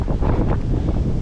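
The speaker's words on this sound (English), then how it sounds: "So it's very windy now." Wind buffets the microphone in a constant low rumbling roar, gusting unevenly throughout.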